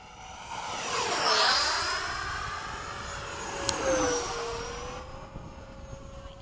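FMS 80mm Hawk RC jet flying high overhead at Crows Landing, a loud ducted-fan whine that swells and sweeps in pitch as it passes, then fades away.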